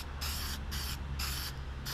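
A spray gun spraying toner lacquer in short bursts of hissing, three or four evenly spaced pulses separated by brief pauses, close and fairly quiet with a low background hum.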